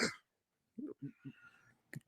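A sharp, breathy sneeze bursts out at the start, followed by a few soft muffled vocal sounds and a brief noisy puff at the end.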